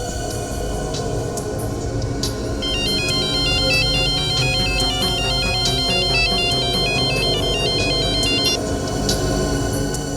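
An electronic phone ringtone plays a repeating melodic pattern of high beeps for several seconds over a low background hum in a TV crime drama scene, then stops.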